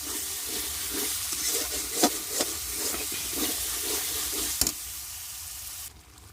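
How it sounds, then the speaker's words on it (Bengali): Spices sizzle and fry with goat meat and potatoes over a wood-fired stove, a steady close crackling hiss with stirring scrapes and a few clanks before the sound cuts off. "খাসির গোস এই মশলা কষাইতেছি"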